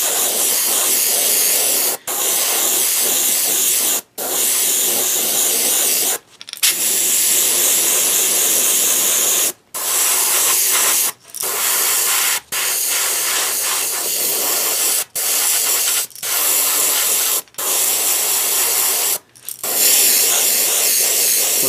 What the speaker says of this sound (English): I've got all the colors loaded up in different airbrushes we're going to spray from.